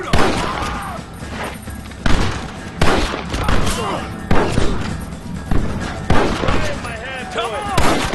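Gunfire in the Red Dead Redemption video game: repeated sharp shots ring out in an irregular rhythm, mixed with game music and shouted voices.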